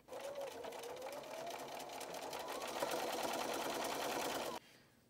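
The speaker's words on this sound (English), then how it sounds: "I'm going to continue by sewing the second dart" A sewing machine stitches darts on a fabric bowl cozy in one continuous close run of rapid whirring needle strokes, stopping abruptly just before the end.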